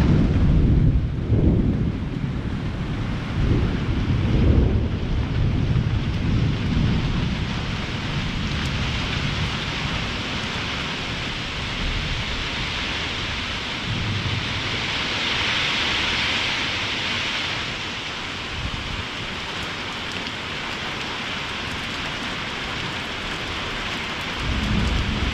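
A thunderstorm rolls through a canyon, with rain steadily pattering on surfaces and a roof and low thunder rumbling near the start, then a continuous wash of rainfall.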